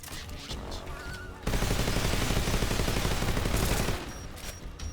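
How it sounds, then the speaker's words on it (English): Sustained automatic AK rifle fire in the stealth action game Metal Gear Solid Delta, a loud dense burst of rapid shots lasting about two and a half seconds before cutting off into quieter ambience. "Let's use the AK real quick."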